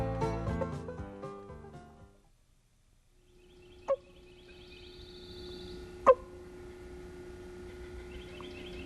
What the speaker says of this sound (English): let's see if I can howl and make him gobble again